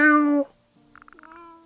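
A cat in a video game lets out one clear, close meow, followed after a short pause by a quick run of soft chirping trills.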